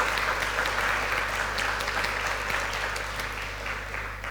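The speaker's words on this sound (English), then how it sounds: "please give a big round of applause to Kari" Conference audience applauding after a talk on the climate impact of software testing, sustained clapping at moderate level that tapers slightly toward the end, with a low electrical hum underneath.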